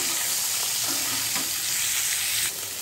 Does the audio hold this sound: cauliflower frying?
yes